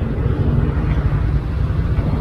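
A Motorstar Easyride 150RS motorcycle engine, cold and hard-starting, runs with a steady, loud low rumble close by. The rumble holds an even throb with no break.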